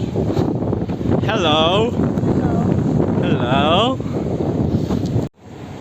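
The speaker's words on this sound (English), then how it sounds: "It's very windy right there." Strong coastal wind on Lanzarote in the Canary Islands buffets the microphone with loud, gusty rumbling, while a voice briefly calls out twice over it before the sound abruptly drops near the end.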